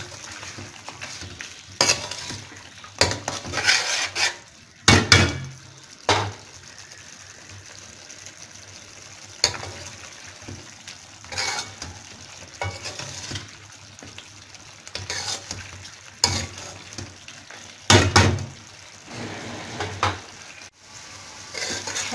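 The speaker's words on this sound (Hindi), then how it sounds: "अब हम इसको अच्छी तरह से भुनेंगे।" Mutton achari karahi masala with softened tomatoes being sautéed in oil and stirred in a pan, a steady sizzle broken by scraping stirring strokes at irregular intervals, with no talk.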